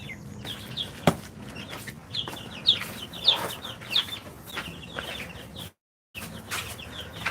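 Hens and ducks cluck in a backyard coop in a loose, irregular run of close calls, with a brief moment of silence near the end.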